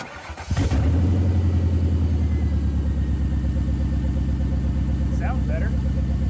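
Lifted Lincoln Town Car with a rough-running engine, held together with duct tape, idling loud and steady at close range; a low rumble with a faint rhythmic knock starts about half a second in and drones on unbroken, with no talk.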